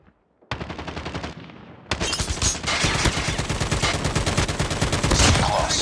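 Machine-gun fire from a Call of Duty match: sustained rapid automatic bursts, loud and continuous, with a brief lull near the start and dense repeated shots running through to the end.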